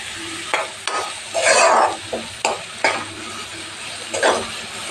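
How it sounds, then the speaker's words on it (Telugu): Salted onions fry in a pan for a fish curry while a utensil stirs them, giving bursts of scraping and sizzling in irregular strokes over a soft background hiss, close and fairly loud. "ఉల్లిపాయలు వేగేంత వరకు వేయించుకోవాలి."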